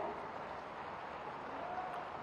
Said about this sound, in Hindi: आप सभी जोरदार तालियां बजाकर